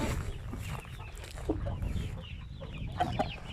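Several roosters of an Indian breed cluck and murmur close by in a busy, noisy coop, with short sharp calls popping up over a constant rustling background.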